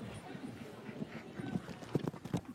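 Horse hooves clatter in a quick rhythmic clip-clop during a race, fairly close, with a voice talking over them and the strikes growing sharper toward the end.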